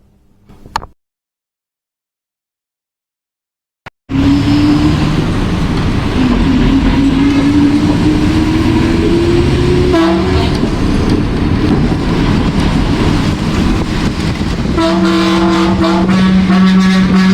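After a brief silence, a metro train in Chennai rushes past loudly and steadily, with a rising whine and rhythmic rattling that continues to the end.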